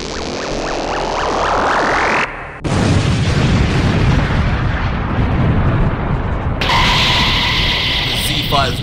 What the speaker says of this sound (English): The Z-Fighters look on shocked at the massive explosion.